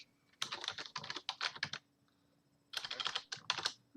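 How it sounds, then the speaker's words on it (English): Loud typing on a computer keyboard in two fast, clattering bursts with a short pause between, close to the microphone and heard alone. "Yes, I know I'm typing loudly."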